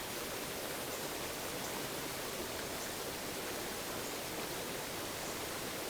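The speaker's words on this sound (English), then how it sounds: "there's no lip right now, and the waters rage and foam" A raging, foaming river rushes in a dense, unbroken roar of white water, loud and constant with no voices.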